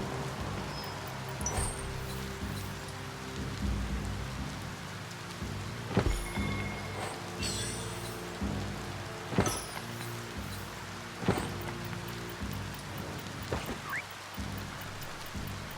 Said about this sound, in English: When it rains, it gets wet.